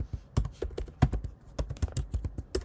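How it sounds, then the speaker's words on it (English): Rapid clicking of keys on a computer keyboard, irregular taps in quick bursts, close and crisp with no talking. "I'm going to search in Google by typing the keyword Homebrew"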